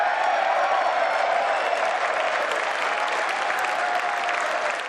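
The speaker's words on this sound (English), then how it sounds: "There were moments of mutual applause." Sustained audience applause fills a formal chamber during a State of the Union address, a dense, steady wash of many hands clapping at even loudness throughout, with no voice over it.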